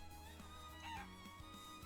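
Farmyard chickens in the video game The Legend of Heroes: Trails of Cold Steel give faint, scattered clucks over quiet background music and ambience.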